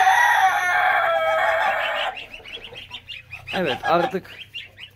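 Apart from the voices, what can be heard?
goose goslings in their new enclosure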